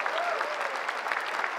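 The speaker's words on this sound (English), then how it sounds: "I think that deserves a flutter of applause" Audience applause fills a cruise ship's opening-night show on the Eurodam: dense, steady clapping from a large crowd, close and continuous for its whole short span.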